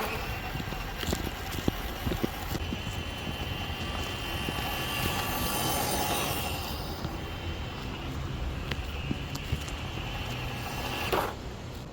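A FCX18 Hummer EV RC pickup truck runs in second gear, its electric motor giving a steady, fairly loud whine with a windy rush for about twelve seconds. The noise swells around the middle and stays continuous to the end.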